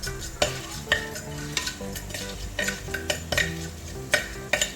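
Coriander seeds dry-roasting in a spoonful of coconut oil over a medium flame, a light sizzle punctuated by repeated clinks and scrapes of a metal spoon against the pan at an irregular rhythm, close and without voices.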